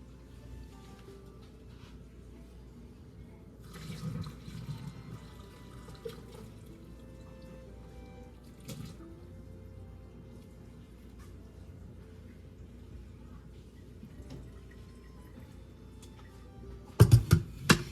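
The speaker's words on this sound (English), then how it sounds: "I'm going to drain some of this liquid, or all of this liquid off" Cooked burger meat liquid poured off into a kitchen sink: a soft running, trickling water sound over quiet room noise, with a few clunks, then sharp loud knocks at the very end.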